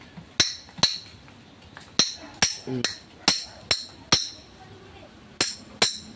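Part being hammered off an electric fan during a repair, heard as about a dozen sharp metallic knocks at an uneven pace, close and distinct, with faint clinks between them.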